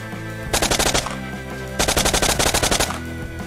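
Rapid automatic gunfire from a first-person shooter on the Blockpost map, in two loud sustained bursts with a short gap between them and no talking over it.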